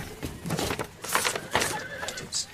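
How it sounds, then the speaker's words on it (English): Horses whinny and hooves clatter in a busy, noisy scene, several short neighs rising over a continuous mix of movement, with no clear speech. "The horses are out of control."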